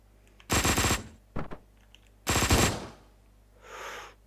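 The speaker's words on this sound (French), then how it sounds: "Attends, hop, on va prendre un fusil à pompe." Shotgun blasts in the top-down shooter Hotline Miami 2: two loud, heavy bursts about two seconds apart with a smaller crack between them, followed by a softer, muffled thud.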